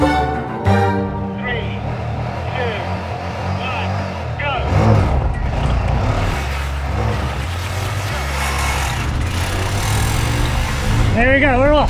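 A Bajaj Qute small car accelerating off the line in a drag race against a bicycle, its engine revving loud and close and rising in pitch through the gears, with a voice talking over it.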